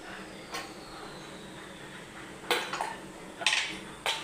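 A pot lid lifted off a pot of cooked mutton curry gives a few faint metallic clinks and clanks near the end over quiet room noise.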